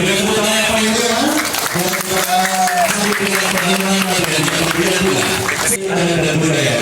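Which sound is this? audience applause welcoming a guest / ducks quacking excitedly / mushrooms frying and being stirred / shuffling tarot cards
audience applause welcoming a guest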